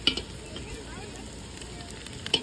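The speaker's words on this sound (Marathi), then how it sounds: "आता मसाला आपण मस्त परतून घेतोय" Powdered spice masala of coriander, red chilli, turmeric and biryani masala sautéing in a pan for egg biryani, a soft steady sizzle with faint stirring scrapes and two brief sharper clinks near the start and end.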